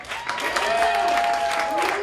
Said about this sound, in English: Everybody give a round of applause for Todd Warden.